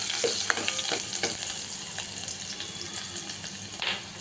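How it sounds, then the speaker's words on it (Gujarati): Cut green chillies frying in hot tempering oil for a spring onion kadhi, a loud, steady sizzle close by with a few stirring clatters over it. "તમે જુઓ છો કે સરસ મજાનો વઘાર સરસ સુગંધ આવી રહી છે"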